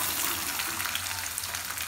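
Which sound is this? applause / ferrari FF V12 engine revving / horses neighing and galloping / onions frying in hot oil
onions frying in hot oil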